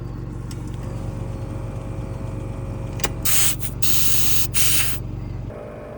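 Compressed air hisses in short loud bursts while old car suspension airbags are inflated, the bursts sitting over a steady low rumble of an idling engine.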